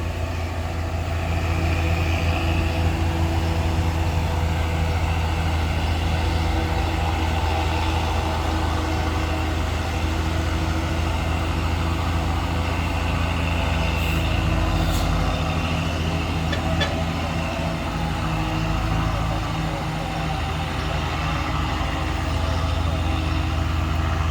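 A heavy Fuso truck engine labors uphill with a deep, sustained roar, loud and close throughout, straining under load, with occasional faint hisses.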